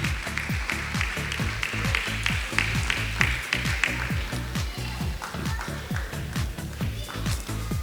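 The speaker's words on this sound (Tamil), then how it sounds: "அவங்களுக்காக ஸ்பெஷலாக ஒரு கரகோஷம்" Applause from a school audience for primary-class children at a Christmas scripture class program, a steady patter of many hands clapping at close range that continues alone throughout.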